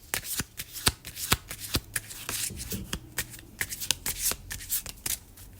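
Playing cards for a card reading shuffled by hand in a quick run of crisp riffles and snaps, close and clear, steady rapid flicks with little else around.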